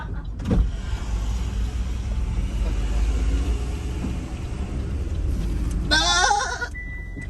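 A person imitates a goat's bleat beside a newly bought car: one short, wavering bleat near the end, rising above a steady, loud rumble of car and road noise.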